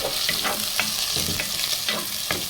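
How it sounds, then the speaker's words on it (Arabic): Chicken breast pieces sizzle and fry in a pan with sliced onion and garlic, a steady close hiss broken by several sharp stirring scrapes. "وهنزل بقى بصدور الفراخ كده. بقى انا نزلت اهو"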